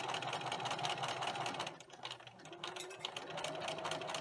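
Sewing machine stitching fabric strips and sewing over pins onto a string-pieced potholder, a steady rapid mechanical whirr running continuously and close, with a brief dip in speed midway before resuming.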